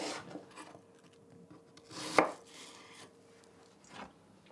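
Crisp apples fresh off the tree are cut with a few quiet, scattered slicing strokes, one sharp crunchy cut standing out in the middle, close and faint.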